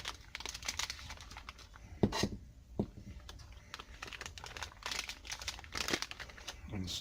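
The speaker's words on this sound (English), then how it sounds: "we're going to spoon some into a piping bag" Macaron batter is spooned into a plastic piping bag, and the bag crinkles and rustles in quick, irregular bursts with soft scraping taps, close and fairly quiet.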